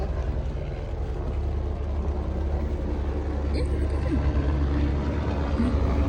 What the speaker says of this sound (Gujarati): તો ગાઈસ વિમાન આવે છે અવાજ કેટલો થઈ ગયો છે.